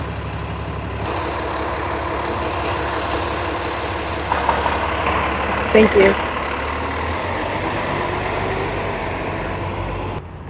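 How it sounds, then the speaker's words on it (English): A propane truck's engine idles steadily at an outdoor canal festival with a floating Ferris wheel, a continuous low rumble throughout, while a voice speaks briefly and there is a short clatter partway through. "It's like a propane truck that's probably like filling some of the different stands over here"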